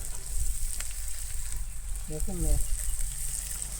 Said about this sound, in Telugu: ఈ అల్లం వెల్లుల్లి పేస్ట్ వేగేలోగా